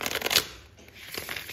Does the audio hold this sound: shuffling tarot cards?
yes